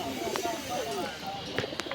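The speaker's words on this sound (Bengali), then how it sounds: "সিরাজিকে ডাকানো হচ্ছে সিরাজি খুবই সুন্দর ডাকিচ্ছে" A Serazi pigeon coos in low, warbling, repeated notes against a busy background of crowd chatter and market noise at a pigeon market.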